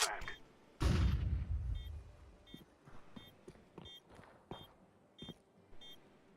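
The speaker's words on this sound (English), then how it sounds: "I'm throwing a flashbang." A flashbang grenade goes off loudly in a bomb-defusal shooter game, followed by scattered gunfire cracks and a repeating electronic beep from the planted bomb, with faint voices in the background.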